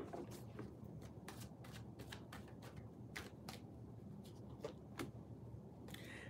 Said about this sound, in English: Literally, I just shuffled it and it came back out